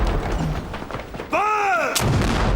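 A ship's cannon aboard a sailing warship fires during gun drill, a loud booming blast with a rumbling tail; a shouted command rises just before the shot.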